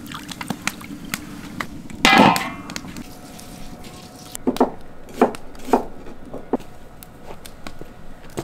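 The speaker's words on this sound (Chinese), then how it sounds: "锅里边加点水，把这俩羊腿扔进去煮一下" Two lamb legs are dropped into a pot of water, making one loud splash and clatter, followed by a scatter of small knocks and drips.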